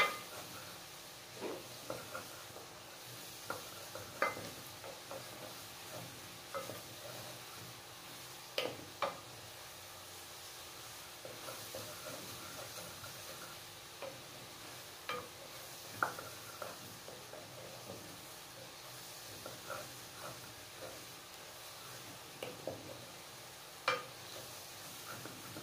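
Garlic sautés and browns in a pan for a party dish of garlic buttered shrimp, giving a soft, steady sizzle with scattered light ticks and stirring clatters, fairly faint and with no talking.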